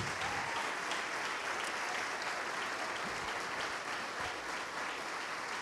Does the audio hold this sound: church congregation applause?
yes